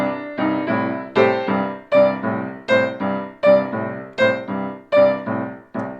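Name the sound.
boogie-woogie piano riff with usual left hand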